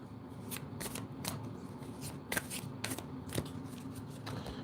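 Cards being shuffled for a card reading riffle and flutter in quick repeated bursts at close range, a soft continuous shuffling with crisp snaps between.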